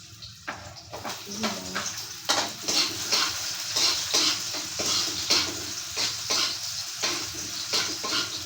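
Food sautéing and sizzling in a pan while being stirred, with repeated scraping and clinking of a utensil against the pan, close and fairly loud, with a voice speaking at times.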